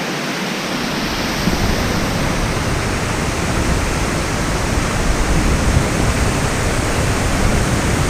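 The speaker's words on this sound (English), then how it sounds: "Into the waterfall." Stewart Falls, a waterfall in Utah, roars as a loud, dense, continuous wash of falling water heard up close, with no voices.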